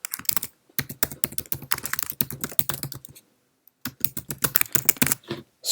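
Someone types on a Mac computer keyboard while renaming a title. Fast, close, crisp keystrokes come in dense bursts, broken by one short silence midway, with no talking.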